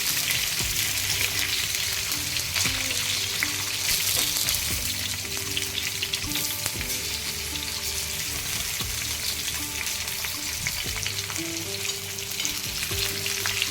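Stuffed green chillies fry in a pan with a loud, steady sizzle and crackle throughout, joined by scraping stirs as they are turned over, with no voices.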